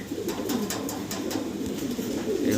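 Fancy pigeons in a breeder's loft coo in a low, throaty rhythm, repeating close and clear over a brief stretch with no talking.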